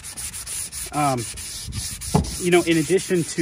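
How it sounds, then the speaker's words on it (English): A lightly charred wooden pickaroon handle rubbed with 220 grit sandpaper, giving quick repeated close scratchy strokes under someone talking. "I'm gonna take some 220 grit sandpaper"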